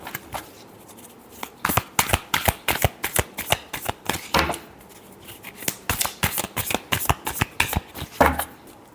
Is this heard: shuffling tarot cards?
yes